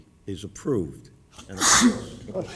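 A person sneezes during a school board special meeting, a sharp burst in the middle of a man's ongoing speech.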